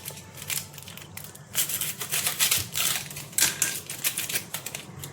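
Knife finely chopping peeled onion on a board in a home kitchen, a rapid, dense run of crisp taps and crunches that grows louder after the first second and continues steadily without talk.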